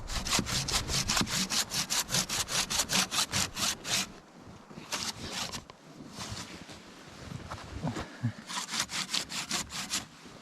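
A hand saw cuts firewood outdoors during winter camping, with steady rhythmic back-and-forth strokes, then a pause with rustling, then strokes again, close and clear.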